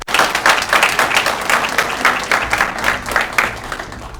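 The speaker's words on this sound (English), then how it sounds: "Give them a round of applause, please." An audience at a town's state of the town address gives the town council a round of applause: steady, full clapping from a large crowd, loud and sustained, swelling in waves and continuing to the end.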